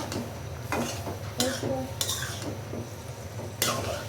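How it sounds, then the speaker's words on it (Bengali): A spoon scrapes and clinks against a pot while kochur loti and shrimp curry are stirred, with a few sharp metallic knocks over a soft background sizzle, close and fairly quiet. "এখন আমি একটু করে দেবো, লাড়াচাড়া দিয়ে দেবো"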